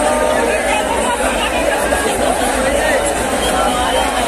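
Dense crowd at Har Ki Pauri ghat in Haridwar during the Kawad Yatra on Sawan Shivratri, a steady, loud babble of many voices close around with no pause.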